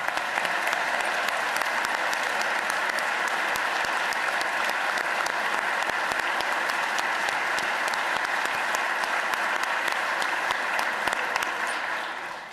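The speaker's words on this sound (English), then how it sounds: "clap for Haley" Sustained applause from a large audience at a governor's budget address, honoring teacher Haley Sill, dense steady clapping that holds at an even level throughout and fades slightly at the very end.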